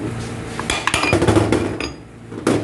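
Metal tools clink and clatter in short, close, irregular knocks while a 32 nut is loosened on the transmission output flange of a Hyundai Genesis DH with an A8LR1 automatic gearbox.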